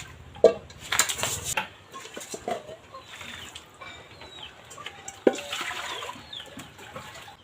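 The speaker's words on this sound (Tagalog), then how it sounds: "Maghugas sa tagkaldiro" Cooking pot being washed, intermittent clanks and knocks of metal cookware with splashes and scrubbing, fairly close, with bursts of running water between quieter pauses.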